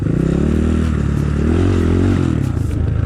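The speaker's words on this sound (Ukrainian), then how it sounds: "Газуємо через ліс." Motorcycle, a BSE 250 or Geon 300 dirt bike, revving as it rides through a forest, its loud, steady engine drone rising and falling with throttle changes alongside rattling clatter from the rough ground.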